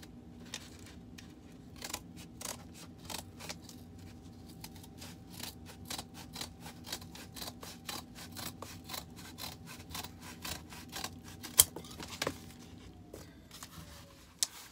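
Scissors trim overhanging packaging while art prints are readied for shipping, producing a quick run of sharp, close snips in an irregular rhythm against a quiet background.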